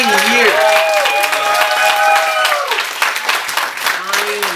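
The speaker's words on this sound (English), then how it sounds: "We'll give a little round of applause." A small crowd claps at a gathering for a couple who have been together nine years. The scattered, loud claps run under voices calling out and talking nearby, then thin toward the end.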